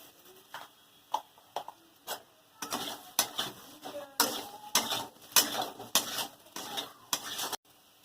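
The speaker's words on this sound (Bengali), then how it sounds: "লবণ দিয়ে কিছুক্ষণ নেড়ে নিয়েছি" Fried potato pieces are stirred with salt in a kadai with white oil, giving a run of clinks and scrapes of a utensil against the pan: a few sparse knocks at first, then busier, steady scraping and tapping close by.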